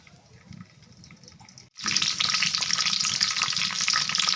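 Bay leaf and whole cumin seeds drop into hot oil and set off a loud, sudden sizzle after a quiet start, then keep up a bright, crackling fry close by.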